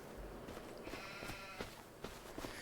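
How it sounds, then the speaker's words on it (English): Sheep in a farm field bleat repeatedly from a distance, a few faint calls rising over quiet outdoor background noise. "Wow, they're noisy, them sheep."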